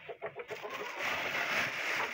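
A hen sitting in a nest in a henhouse in winter gives a few quick clucks, then a soft rustle, close and fairly quiet.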